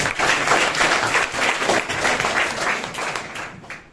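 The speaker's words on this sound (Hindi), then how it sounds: "एक बार जोरदार ताली हो जाए।" Loud, sustained applause from an audience, dense steady clapping that tapers off slightly at the end.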